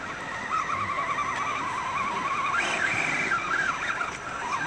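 A Class 3 RC rock crawler's electric motor whines steadily under throttle, its pitch wavering and climbing midway, then dipping and rising again, close and continuous over faint background noise.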